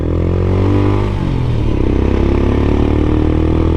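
A Royal Enfield Scram 411 motorcycle fitted with an AEW Thunder stainless exhaust pipe runs loud and close, with a deep, throbbing, lumpy engine note that shifts in pitch as it is revved.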